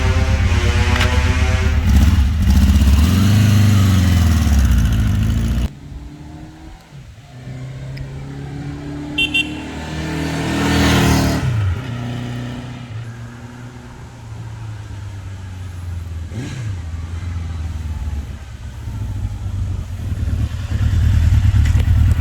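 A 1982 Honda CB900C motorcycle riding past, engine rising and falling with revving and gear changes, loud up close at first then fluctuating in distance.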